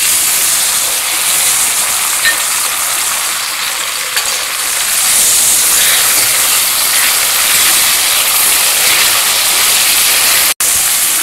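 Tomatoes hitting hot oil for a South Indian garlic kuzhambu, with a loud, steady sizzling hiss that stays close and continuous throughout, broken only by a brief cut near the end.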